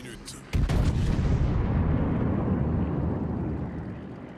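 Heavy naval gunfire in World of Warships, with a French battleship Dunkerque and an American North Carolina exchanging salvos; a sharp booming blast is followed by a long, rumbling roar of shell impacts and echoes that slowly fades, with a voice faintly beneath.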